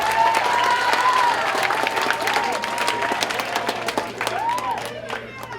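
Steady audience applause at a teen conference fills the whole stretch, with a few voices calling out over the clapping.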